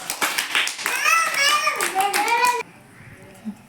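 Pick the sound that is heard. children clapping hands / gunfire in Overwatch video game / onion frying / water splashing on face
children clapping hands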